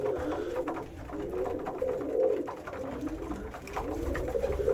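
A flock of about fourteen domestic pigeons coos repeatedly while pecking at winter feed, the soft rolling calls close and continuous, rising and falling in waves with no talk.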